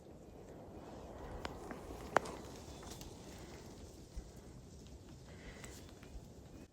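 A swarm of bugs strikes the ceiling of a bug shelter at a lake campsite, a dense continuous pattering like rainfall with occasional sharper ticks and one distinct snap.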